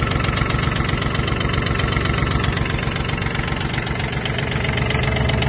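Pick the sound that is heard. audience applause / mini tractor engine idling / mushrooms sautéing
mini tractor engine idling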